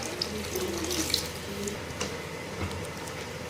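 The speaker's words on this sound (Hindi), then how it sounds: "अब इसमें हम शामिल करेंगे पानी, वो वाला जो चनों से हमने बचाया है।" Water, saved from cooking chana, poured into a pot of chana pulao with tomatoes, a steady close splashing stream with small gurgles for a few seconds, no talking.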